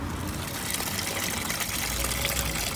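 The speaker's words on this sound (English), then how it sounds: "we're just going to pull that hose off, and then all the coolant will drain out into the tub." Coolant drains out of a car's pulled radiator hose into a tub in a steady, continuous gush of liquid that stays loud and unbroken throughout.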